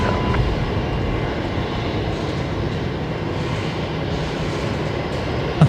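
A pink Fokker 70 airliner taxiing at Brisbane Airport, a steady broadband jet engine roar holding level throughout, moderately loud and continuous with no talk.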